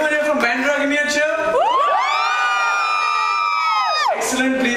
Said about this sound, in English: Anyone here from Bandra, give me a cheer.